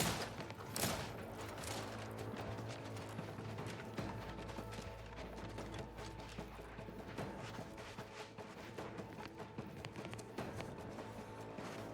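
Rapid gunfire bursts in The Outer Worlds 2 crackle over a busy game soundscape, a loud opening volley followed by a steady rattle of shots and clanks throughout.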